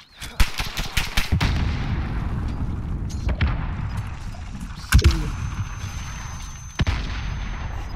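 Rapid bursts of gunfire and booming blasts over a constant rumble, with a few louder single shots standing out later, in Call of Duty: Modern Warfare.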